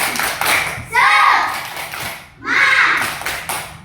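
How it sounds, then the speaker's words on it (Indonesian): Schoolchildren in a classroom performing a rhythmic spirit clap, loud bursts of patterned clapping mixed with children's chanting voices, rising and falling in two clear waves. "Oke, tepuk semangat"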